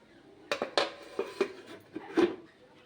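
A metal lid settles onto a pan of red amaranth greens cooking with prawns, giving a quick series of five or six sharp clanks and clinks close by, the last one the loudest.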